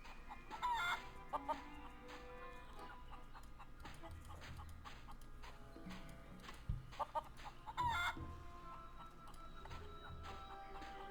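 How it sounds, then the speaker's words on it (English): Chickens cluck and squawk in the pirate adventure game The Curse of Monkey Island, with bursts of fowl calls near the start and again later over a quiet background of game ambience. "Can I go catch a chicken? There are chickens."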